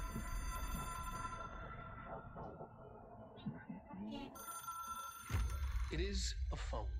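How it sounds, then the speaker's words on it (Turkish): A phone rings inside the video game Control, bright repeated ringing tones that run over ambient game sound, with talk over it throughout. "telefona cevap vereceğiz."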